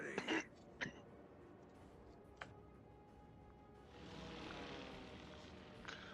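Warplanes drone past a cruiser in World of Warships, a soft propeller hum swelling in the latter half over quiet game ambience, with a few sharp clicks and a throat-clear-like burst early on.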